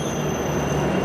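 An Upfield service train moves through a station platform with a steady rumble and thin high wheel squeal, continuous and fairly loud, with no voices.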